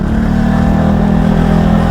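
A Loncin CR4 (LX-250) motorcycle engine hums and revs at a steady, loud, close pitch for two seconds, with no voices over it.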